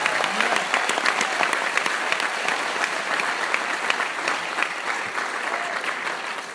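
A large audience at a Les Brown motivational talk in London applauds steadily, dense clapping filling the room at an even, sustained level throughout with no voices standing out.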